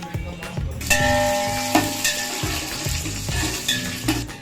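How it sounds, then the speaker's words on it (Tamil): Spices with cinnamon roasting in cold-pressed coconut oil until golden, a close continuous sizzle mixed with metallic clinks and scrapes of a pan and utensil, no speech. "இதை இன்னும் நல்லா பொன்னீரம் வறுக்கணும் பார்த்துடுங்க."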